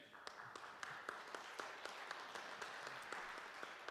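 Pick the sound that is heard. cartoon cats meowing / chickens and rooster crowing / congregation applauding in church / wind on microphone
congregation applauding in church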